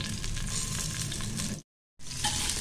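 Onion frying in cooking oil in a pan, a steady loud sizzle and crackle that cuts out briefly and then resumes just as strongly.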